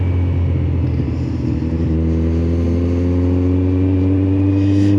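A moped on a public road, heard from a car slowing behind it, its engine a steady close buzz layered over the car's own low rumble for the whole stretch.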